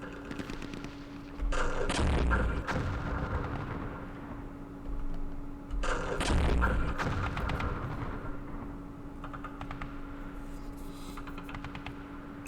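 Two heavy artillery booms roar out a few seconds apart in Campaign Series Vietnam's Dien Bien Phu battle, each followed by a long rumbling decay over a low steady hum.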